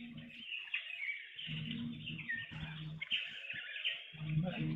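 A green wood hoopoe chick calls with repeated high, chattering chirps through most of the clip, while people talk nearby over a steady outdoor background.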